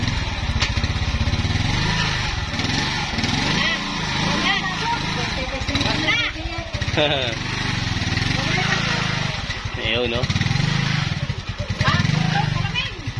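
A Rusi Macho 175 motorcycle engine runs steadily up close, its low rumble continuous beneath people chatting nearby.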